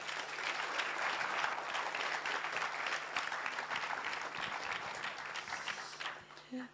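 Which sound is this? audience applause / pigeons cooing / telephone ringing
audience applause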